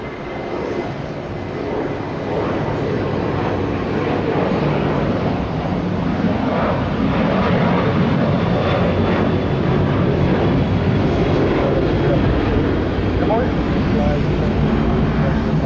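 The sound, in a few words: Embraer aircraft taxiing at Tampa International Airport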